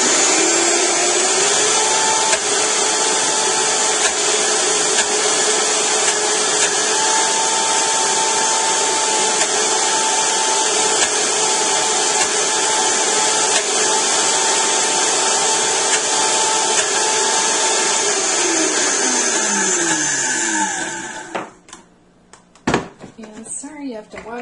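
A blender whirs loudly and steadily as it purees vegan mayonnaise, a dense continuous roar that holds for about twenty seconds before cutting out, followed by a few faint clatters as it stops.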